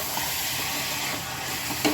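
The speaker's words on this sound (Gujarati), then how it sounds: "દાળને પણ એકદમ સારી રીતે આમાં થોડીક 2-5 મિનિટ આપણે સોતે કરશું." Whole masoor lentils sizzle steadily as they are sautéed in a pan, a continuous close frying hiss with a faint stir or scrape near the end.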